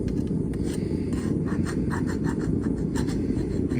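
A file grabbing and rasping on an unhardened knife blade in a blacksmith shop: a continuous close scraping stroke with rhythmic gritty bite pulses, loud and without talk.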